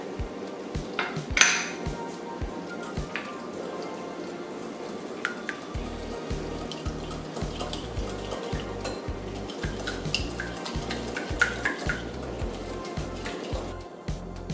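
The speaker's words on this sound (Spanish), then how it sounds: "Y vamos a mezclar." A utensil stirs pumpkin pancake batter in a bowl, a vegan gluten-free mix containing apple cider vinegar, giving soft wet scraping, squishing strokes and occasional clinks against the bowl, fairly close with no talk.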